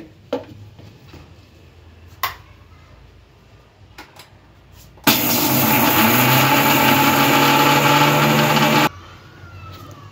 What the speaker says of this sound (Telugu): అది కొద్దిగా ముందు ఒకసారి మిక్సీ పట్టుకుందామండి